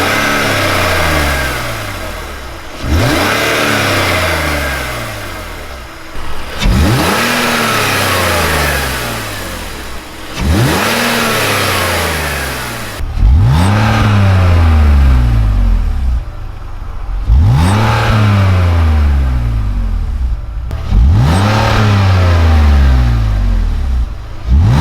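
A BMW E46 fitted with a carbon fiber performance intake revs repeatedly, its engine climbing to a loud, rising howl and dropping back about six times, with a throaty induction roar close by.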